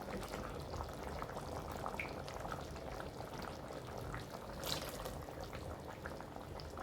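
Dried fish gravy with coconut bubbles in a pot at a steady rolling boil, a continuous busy gurgle with no voices.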